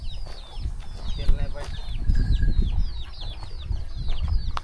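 Farmyard chickens cluck in repeated short bursts close by, with people talking intermittently and low rumbling background noise on a village farm.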